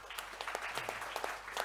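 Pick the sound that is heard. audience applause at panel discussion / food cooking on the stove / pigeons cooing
audience applause at panel discussion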